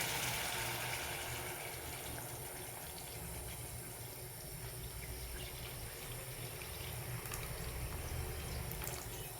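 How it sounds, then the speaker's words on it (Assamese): Hot water is poured into a pan to make curry gravy, a continuous soft gushing and splashing stream that holds steady for several seconds, close but fairly quiet, with no voices. "এতিয়া মই জোলৰ কাৰণে গৰম পানী দি দিম"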